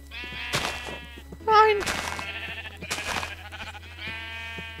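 Minecraft sheep bleat several times in a video game, a brief wavering cry standing out loudly near the middle, with someone speaking German over and between the calls.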